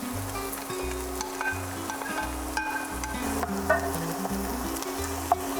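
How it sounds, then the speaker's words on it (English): Onions and garlic sauteing in olive oil for an Italian tomato pasta sauce, a steady close sizzle with occasional stirring clicks and scrapes throughout. "we're going to saute our onions and garlic"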